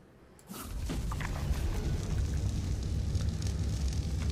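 A Magmasaur's fire attack in ARK: Genesis erupts into a loud, steady roaring rush of flames that starts abruptly and keeps burning without pause.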